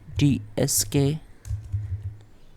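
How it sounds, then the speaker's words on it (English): Typing on a computer keyboard while entering a Windows command, with a voice speaking over the clicks in short bursts and quieter keystrokes continuing in the pauses. "Then type your chkdsk"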